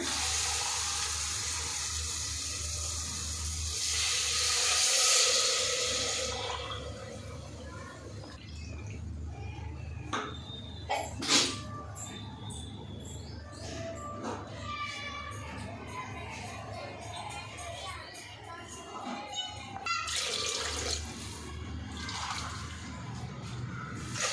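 Water is poured from glasses into a cooking pot for a rice dish, a loud gushing rush at the start, then quieter splashes, clinks and trickles with a second pour later.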